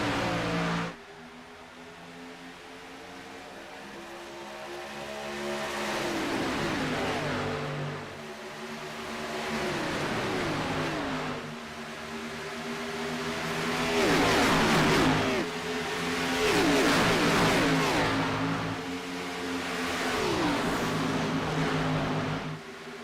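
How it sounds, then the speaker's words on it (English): Race car engines roar around Las Vegas Motor Speedway in the iRacing sim, a loud continuous drone of several cars revving and shifting, pitch rising and falling in repeated sweeps as they accelerate, with no talk over it. "green flag flies, and we're racing at Las Vegas Motor Speedway."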